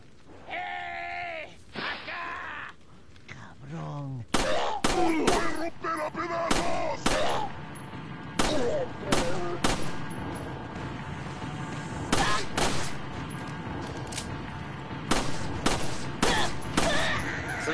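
Gunshots ring out in Resident Evil 4, set in a village. Sharp single shots come at irregular intervals after a stretch of groaning voices, and the shots ring out loud over the game's ambience.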